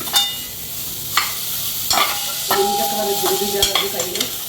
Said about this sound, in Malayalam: നമുക്ക് കോവയ്ക്ക കഴുകി വെച്ചിരിക്കുന്ന കോവയ്ക്ക എടുത്തിടാം